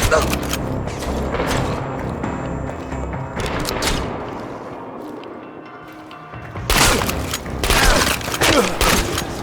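Gunfire in the video game Chernobylite: loud, close bursts of rapid shots with booming impacts, a short lull, then a heavier fusillade, with a voice speaking over the action.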